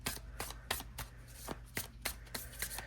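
A tarot card deck is riffled and shuffled over and over, each crisp flutter of cards landing in a quick, steady rhythm, close by and fairly quiet.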